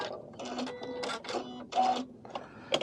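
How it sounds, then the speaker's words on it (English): A Janome or Elna drop-in bobbin sewing machine trims its thread: several short, close mechanical whirring bursts separated by brief pauses. "So we're going to trim our thread,"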